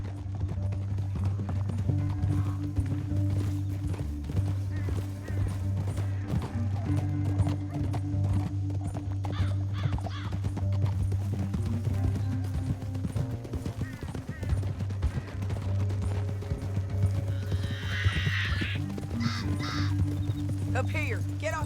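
Horses gallop in Red Dead Redemption 2, a steady drumming of hooves running continuously under a loud rumbling ride, with voices talking over it and a brief whinny near the end.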